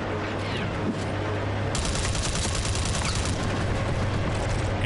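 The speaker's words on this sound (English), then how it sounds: "she's going to try and come to a good position so that she can shoot at that AA unit" Long-range gunfire aimed at an AA unit in Mercenaries 2: a low engine-like hum gives way to a dense, continuous burst of rapid shots that keeps going to the end, loud and steady, with no voices.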